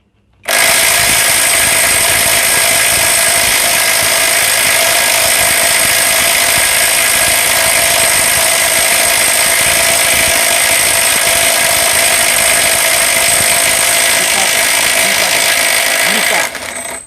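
A Vrill VIW2350 cordless impact wrench drives an M20 bolt, hammering loudly and continuously for about sixteen seconds at close range before stopping abruptly.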